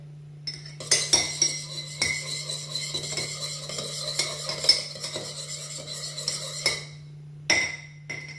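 A metal spoon stirs milk into a mixture in a bowl for a breakfast sandwich, giving repeated close clinks and scrapes against the bowl over a steady low hum, then a brief pause and a few final taps.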